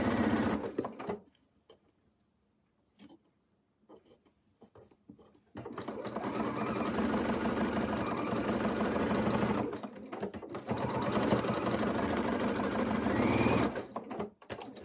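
A sewing machine runs zigzag stitches to sew appliqué pieces in place, a steady close mechanical whirring that starts after a quiet stretch, pauses briefly, then resumes.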